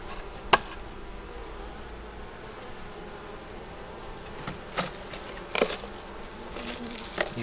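Honey bees buzz at a hive in a steady, faint drone, broken by a few sharp clicks and knocks close by.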